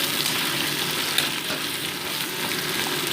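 Chopped onion and green chilli fry in hot oil for a fish dish, a constant loud sizzle with faint stirring, close up and without talk.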